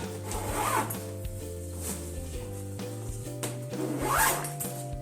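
A zipper rasps shut on a bundled pack of comforters being readied for overnight desert camping, two long drawn pulls close up and clear with no talk over them.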